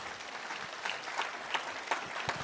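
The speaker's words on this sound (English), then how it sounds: "a huge round of applause for our panel here" Audience applause for a panel at a Buddhism and science discussion, a sustained wash of clapping from a full room, moderately loud and even throughout.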